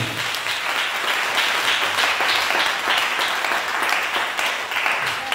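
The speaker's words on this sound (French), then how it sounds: "Acclame le Seigneur Jésus." A church congregation applauds steadily for several seconds, a dense, even wash of many hands clapping at moderate loudness, with no voices standing out.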